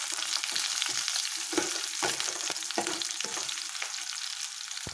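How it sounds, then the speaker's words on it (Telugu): Chopped onions and green chillies fry in hot oil with mustard seeds and cumin, a steady close sizzle broken by repeated scraping stirs of a spoon against the pan, with no voices. "ఇప్పుడు ఆనియన్ పచ్చిమిర్చి వేసుకోవాలి. వీటిని ఒకసారి కలిపేసేద్దాం."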